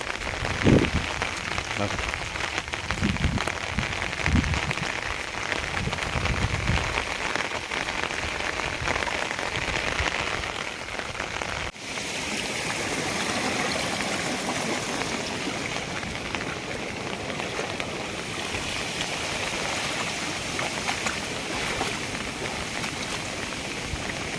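Heavy rain hammers down on an open tomato field in Nashik in a dense, unbroken roar that holds steady throughout, with a few faint voices early on.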